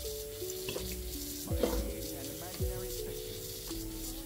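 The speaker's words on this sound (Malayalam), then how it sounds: "അതിലേക്കൊരു 1 ടേബിൾ സ്പൂൺ ഓയിൽ ഒഴിച്ചു കൊടുക്കുക." A tablespoon of oil hits a heated pan for kappa biryani, giving a continuous close sizzle with a few clanks and scrapes of utensils.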